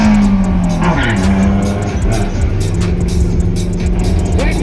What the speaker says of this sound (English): that's a cool Caddy with probably a 2-litre ABF motor